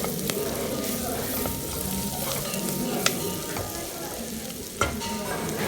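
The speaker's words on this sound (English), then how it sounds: "And I'm going to saute it. Now I'm going to add some onions." Onions for potato chowder sauté in a pan with a steady close sizzle, while a few sharp clicks and scrapes of stirring cut through at intervals.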